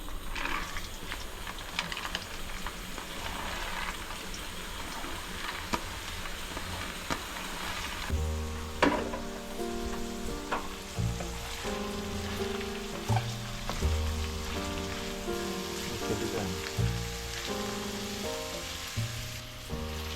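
Garlic frying in oil in a home kitchen for Bengali fried rice, a steady close sizzle running throughout, joined midway by louder clattering and tonal kitchen noise layered over the hiss.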